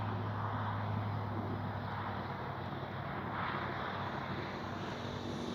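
A Durafly Tundra V3 RC bush plane flying overhead, its electric motor a steady, faint whine under broadband wind noise, constant in level with no voices.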